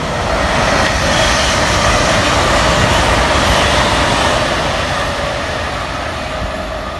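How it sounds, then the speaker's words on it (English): A Braintree to Liverpool Street passenger train passes on the Great Eastern Main Line, a loud, sustained rumble of wheels and carriages close by that slowly fades, with no talking. "I believe that's the Braintree Liverpool street service"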